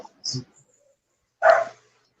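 A pet dog gives two short barks or yips about a second apart, close and fairly loud, against an otherwise quiet indoor background.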